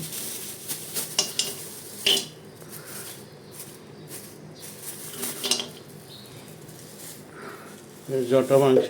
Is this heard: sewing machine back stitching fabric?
no